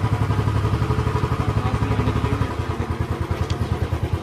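A motorcycle engine chugs steadily on a Mumbai street with a rapid rhythmic thumping pulse, close and loud, easing slightly partway through, with no talk.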